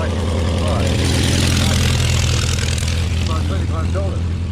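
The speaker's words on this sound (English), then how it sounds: "a lovely Edwardian racer powered by this incredible Curtis OX5 engine" Edwardian racer powered by a Curtiss OX5 engine, running at a hillclimb, a loud continuous throbbing drone with a steady low pulse, holding level throughout the clip.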